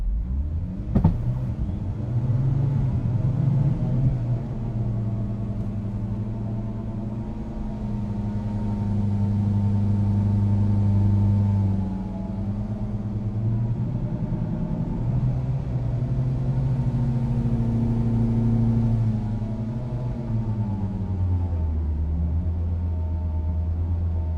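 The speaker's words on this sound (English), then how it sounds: "put it in gear here and let's shift up through the gears" A 2011 Mitsubishi Evo X MR with bolt-on modifications revs its engine steadily and shifts up through the gears, the tone rising and dropping with each change, loud and close.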